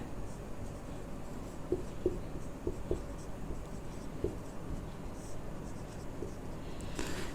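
Writing on a board during a Hindi grammar lesson: faint scratching strokes in short clusters over a steady low background hum, with no one speaking.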